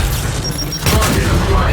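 A frag grenade detonates in the Gears 5 Hivebusters mode, a heavy boom partway through after a stretch of game-battle noise, with a brief high tonal cue beforehand.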